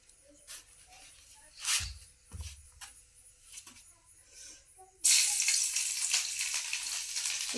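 Garlic tempering with greens and green chilies sizzles loudly in a pan after a few clatters and taps, a steady bright frying hiss that starts abruptly and carries on to the end.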